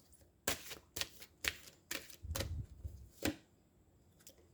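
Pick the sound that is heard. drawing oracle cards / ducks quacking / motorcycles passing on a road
drawing oracle cards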